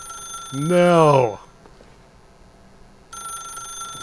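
A phone rings in the video game The Stanley Parable, steady bright tones starting near the end after someone speaks over quieter background.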